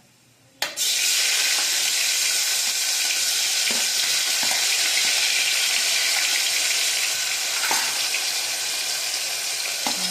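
Asafoetida and tomatoes dropped into hot oil burst into a loud, sudden sizzle that settles into steady, close frying with occasional faint taps of a spoon against the pan.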